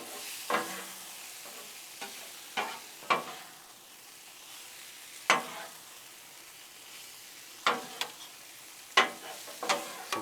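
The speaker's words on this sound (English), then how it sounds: "So I'm just gonna keep on mixing this up and get that cheese all melted through it." Cheesesteak meat and pepperjack cheese being mixed on a hot Blackstone griddle: a steady soft sizzle broken by sharp, irregular spatula scrapes and taps, close and with no talking.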